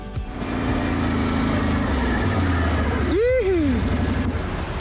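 A quad bike on a short test ride around a village property in Rurutu, its engine droning steadily and close, with speech over it and a brief rising-and-falling tonal sweep partway through.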